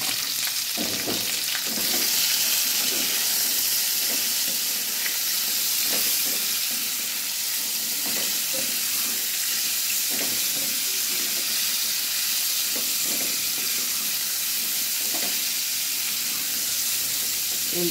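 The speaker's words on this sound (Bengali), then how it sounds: "তেলটা দিয়ে আঁচটা জোর করে একটু ভাজা ভাজা মতন করে নেব" Food frying in hot oil over high heat, a dense, loud sizzle heard close by with intermittent stirring scrapes, steady throughout with no speech.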